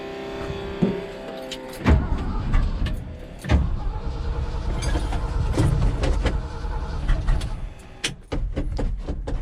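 A 1975 Ford F750 pipeline truck idles roughly after a cold start, a steady low engine rumble with air building, broken by several sharp clanks and knocks close by.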